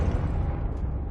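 The Confringo fire spell bursts in Hogwarts Legacy, a brief, heavy, rumbling blast that fills a short moment at close range.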